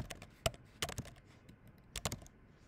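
Computer keyboard typing while data is entered into statistical software, a few separate clusters of quick, crisp key clicks spaced across the moment, close and fairly quiet, with no talking.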